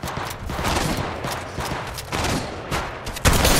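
Rapid gunfire in an Apex Legends Mobile match, dense bursts of shots crackling one after another at close range, ending in a louder final volley.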